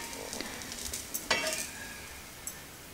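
A pancake frying in homemade ghee on a plain cast iron tawa gives a faint, soft sizzle, with a few light scrapes and taps of a utensil against the pan.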